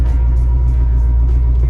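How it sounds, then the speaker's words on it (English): A C4 Corvette's ZF 6-speed gearbox with the clutch engaged, giving a loud, steady low drone with a faint whine layered over the idling engine, unbroken throughout. "So that's the transmission whine that I'm looking to resolve."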